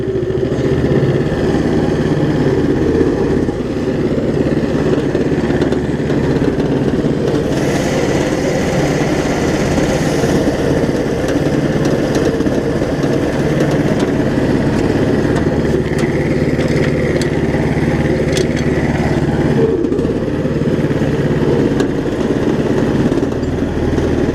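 A Power Fist 420cc engine on a Case 700 tractor drones loud and close throughout, steady and unbroken, rising slightly in pitch as it is revved.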